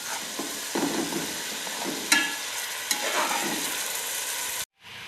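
Onions frying in a pan with garlic ginger paste being stirred in for a creamy white chicken karahi, a steady close sizzle with scraping stirs and a few sharper clinks, ending in a brief pause.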